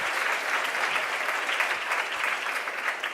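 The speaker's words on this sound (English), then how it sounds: "give him a nice round of applause" A comedy club audience breaks into steady, dense applause, a continuous wash of clapping that holds at even volume throughout without any talk.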